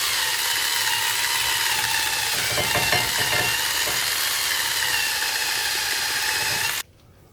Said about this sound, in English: I've been using the metal brush with the drill